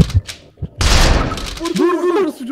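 A loud volley of gunshots fires in a ghost exorcism video game, a brief sharp burst followed by sustained noisy firing, with several players talking and shouting in Turkish over it.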